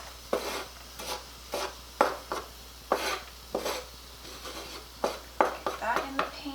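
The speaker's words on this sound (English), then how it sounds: "We're going to saute some chopped onion and some chopped garlic" Chopped onion and garlic being sautéed in a pan with a spatula: a steady run of close, crisp clacks and scrapes in an uneven rhythm over a faint background hum.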